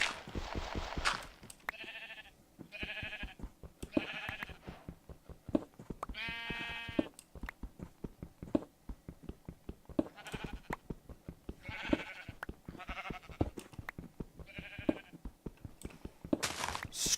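Repeated sheep bleats from a video game, a dozen or so short harmonic calls spaced through the clip at steady loudness, with game sound behind them and no talk.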